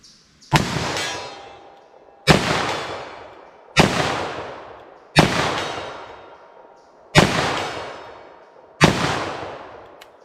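.38 Special +P+ 110-grain revolver loads fired quickly double action: six loud, close shots at a steady rhythm, each followed by a ringing decay that fades before the next.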